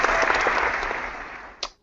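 An audience at a sneaker-themed talk show claps in a dense burst of applause that fades out over a couple of seconds, with one final clap near the end.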